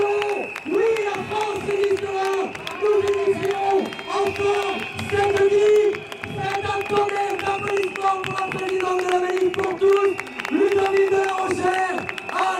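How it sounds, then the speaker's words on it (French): A crowd applauds and cheers for Hugo at a Manif Pour Tous rally in France, a steady roar of clapping and whoops that continues throughout, with a loud amplified voice speaking over it. "Un immense merci à Hugo! Un immense merci! Un applaudissement!"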